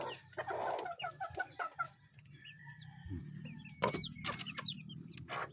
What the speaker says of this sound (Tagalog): Tingnan natin ang sisiw na lumabas yung inahin.